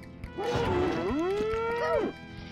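A cartoon cow in the video game Conker's Bad Fur Day lets out one long, loud, bending moo that rises and falls over about two seconds, heard alone without talk.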